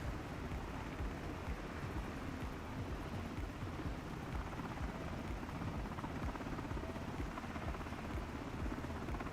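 Steady, even rotor and turbine drone of a Miltech MH60T helicopter in flight in the MSFS 2024 simulator, a continuous broadband wash with faint rhythmic blade thumping, moderately quiet and unbroken.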